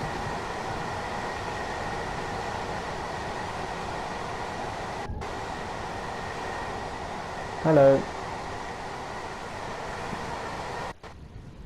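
A Class 387 electric commuter train runs in Train Sim World 2 on a London commuter route, a steady even rumble and hum with a brief tonal chime near the end and a short spoken greeting.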